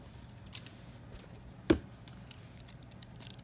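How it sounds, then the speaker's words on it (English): Scissors cut open the packaging of a Wheelock AES-EL1-WS-24 fire alarm, heard as a few faint snips with one sharper cut near the middle, close and quiet. "Scissors."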